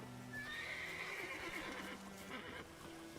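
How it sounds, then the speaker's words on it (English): Angry horse from the game The Witcher 3, giving one shrill whinny with a few hoof clops, faint and alone. "Angry horse."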